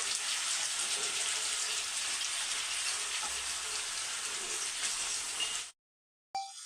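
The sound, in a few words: chicken pieces frying in onion-fried oil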